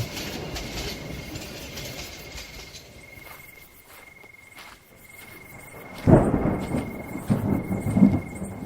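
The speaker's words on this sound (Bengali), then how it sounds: "ট্রেনটি হুইসেল বাজিয়ে ধীরে ধীরে স্টেশন ছেড়ে চলে গেল" A local train pulls slowly out of a station at night, with a sustained whistle tone over a low rumble that grows louder and heavier toward the end as the carriages roll away.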